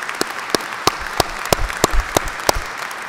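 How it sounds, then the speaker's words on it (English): Clapping rings out at the University of St. Thomas School of Law 2012 commencement, with loud, evenly spaced claps in a steady rhythm echoing through the hall. "Well, that deserves a clap,"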